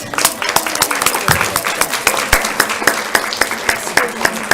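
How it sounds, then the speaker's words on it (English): An audience at a Board of Education meeting applauds students, many close hand claps forming an uneven, fairly loud patter. "But I think we want to give them a round of applause"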